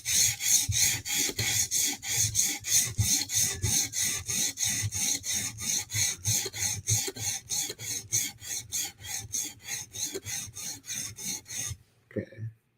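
Knife blade being sharpened on a stone with steady back-and-forth rasping strokes worked up the blade face, rhythmic and close, ending abruptly in quiet.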